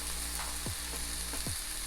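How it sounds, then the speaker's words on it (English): Chicken fried rice stir-fried in a pan with fresh garlic, a steady close sizzle throughout with two or three quick scraping stirs of the spatula, no talking. "So it's been 8 minutes total of stir frying this."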